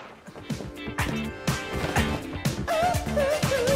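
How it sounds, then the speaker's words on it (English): Energetic Devil May Cry soundtrack music with dense layered instruments, steady rhythmic hits and a high wavering lead line entering near the end, played loud and unbroken with no talking. "So in Devil May Cry, they have music that sounds like this."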